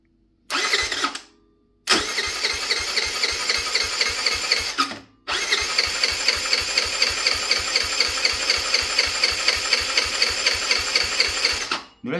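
A scooter bought for parts, its fairing removed for a tank swap, starting up and idling with a loud, rapid two-stroke putter, cutting out briefly twice before restarting and running steadily up close.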